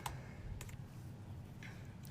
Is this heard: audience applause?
no